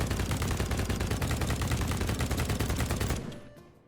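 Automatic gunfire from a gun in the video game BattleBit Remastered, a loud, rapid, unbroken burst of shots for about three seconds before it stops abruptly and rings off into quiet.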